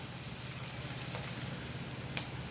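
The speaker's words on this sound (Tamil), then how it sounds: "ரொம்பவும் வதங்கக்கூடாது, மீடியமாக வதங்கணும்." Sautéing in a pan for a white egg kurma: a steady, faint, hissing sizzle with one or two small pops, continuous and close, with no talking.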